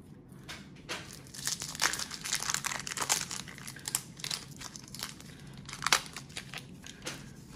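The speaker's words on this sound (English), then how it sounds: "the wrappers have been stuck together all these years, and sometimes they're a little difficult to get apart" Foil wrappers from 1991 Topps Archives baseball card packs, stuck together with age, are peeled and torn apart in a run of close, crisp crinkling and tearing rustles with no talking.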